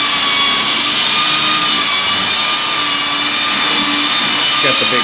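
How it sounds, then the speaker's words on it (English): A big floor sander refinishes a blackened floor, giving off a loud, steady, roaring drone with a high whine that holds up close for the whole stretch. "Got the big sander."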